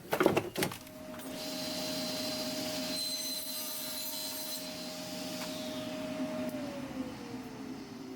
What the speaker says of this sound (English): Now we can make our crosscut.